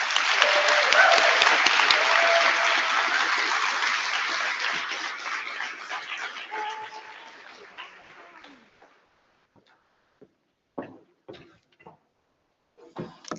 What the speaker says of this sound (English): please give her a warm welcome and maybe an extra clap and cheer